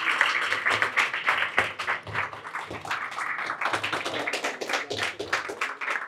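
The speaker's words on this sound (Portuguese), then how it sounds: "Eu peço uma salva de palmas a todos os nossos convidados." An audience at a Lisbon panel event on immigration applauds the guests with a burst of uneven hand clapping that swells and thins without letting up.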